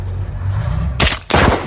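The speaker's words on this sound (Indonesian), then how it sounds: "Sesampainya di kota, Don dikejutkan dengan tembakan yang berasal dari gedung." Two sharp, loud gunshot cracks ring out in quick succession, fired from a building in a war film about American tank crews fighting Nazi soldiers, following a low rumbling background.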